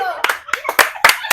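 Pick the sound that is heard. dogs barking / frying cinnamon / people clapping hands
people clapping hands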